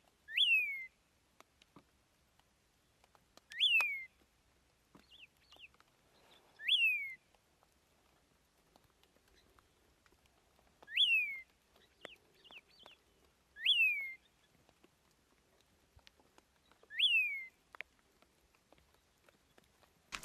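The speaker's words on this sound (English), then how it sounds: "If you can hear that bird calling off to the right of me, you would have seen in the picture now is a yellow-throated longclaw." A yellow-throated longclaw gives a clear, whistled call on a safari morning, repeated about six times at steady intervals from mid-distance, with faint chirps between and no talk.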